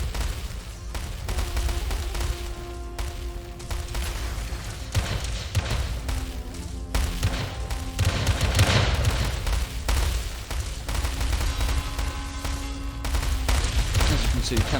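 Rapid, dense barrages of light cannon fire from a large War Selection video game battle, with booming thumps, overlapping shots and tonal game effects running continuously, and a voice narrating over the din.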